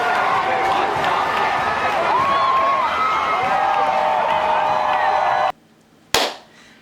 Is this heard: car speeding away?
no